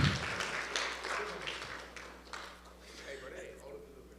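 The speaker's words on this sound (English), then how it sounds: "last round of applause for the boys flag football team" Applause for a boys' flag football team at a Christian academy sports banquet, a steady crowd clapping that swells at the start and gradually tapers off across a few seconds in an indoor hall.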